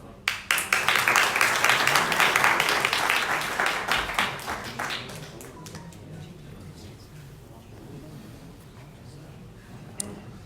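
Audience at a telematics industry panel discussion applauds in a dense, lively burst that thins out after a few seconds into scattered claps, room murmur and brief voices.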